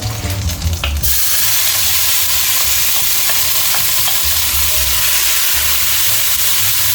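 Sofrito sizzles loudly and steadily in oil with prawns for a chickpea and salt cod dish, a brief clatter at the start giving way to a constant close frying hiss.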